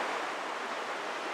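Sweet Creek Falls pours steadily nearby, a broad, even rush of falling water with no breaks and no voices.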